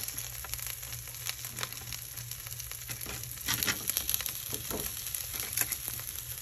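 Fish adobo with bay leaf, garlic, pepper and onion frying in a pan while being stirred, producing a constant sizzle with repeated soft scraping strokes throughout.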